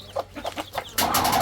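A young chick peeps in a short run of soft, evenly spaced calls, then a louder burst of rustling and clucking from nearby fowl cuts in and holds to the end.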